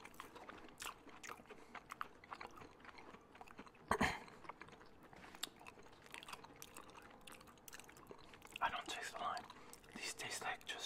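Macarons being bitten and chewed up close in a mukbang, soft crunching and moist mastication with one sharper bite, under quiet whispered talk.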